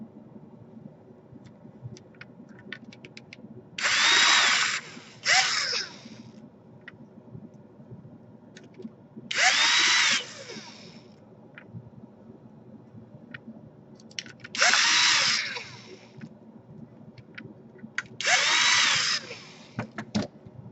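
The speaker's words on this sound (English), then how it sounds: "I obviously don't use the drill to screw them all the way in" A power drill whirs in four short bursts, each a second or two long, driving screws into an Asus X54C laptop, separated by quiet pauses with faint handling sounds.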